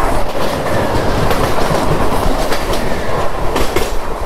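A Virar local train rushes past at speed: a loud, continuous rumble with rapid clattering wheels, close and unbroken throughout.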